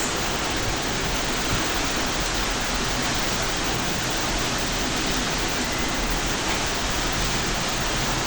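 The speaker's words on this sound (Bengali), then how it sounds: "কি পরিমাণ ঝড় হচ্ছে" A dense, unbroken roar of strong storm wind and heavy rain in Narail, Bangladesh, among coconut and areca palms, loud and steady throughout with no pauses or voices.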